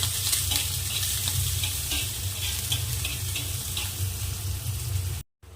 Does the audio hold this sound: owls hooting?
no